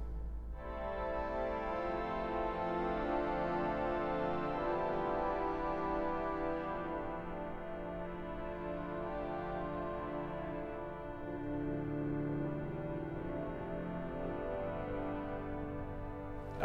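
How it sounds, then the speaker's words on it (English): Solo strings stop on the St Edmundsbury Cathedral organ plays a long, sustained chord of bright, reedy string tones that shift gently as the harmony changes, ringing alone in a large cathedral acoustic. "Moving on to the solo strings."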